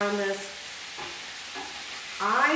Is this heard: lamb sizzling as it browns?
yes